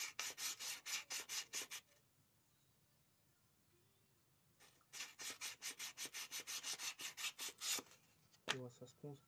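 Hand sanding rasps over a manual vise being restored, in rapid rhythmic back-and-forth strokes, close and loud, with a pause in the middle before the strokes resume.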